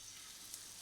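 Battered chicken pieces sizzle in hot frying oil, a soft, brief, steady hiss heard close with no talking.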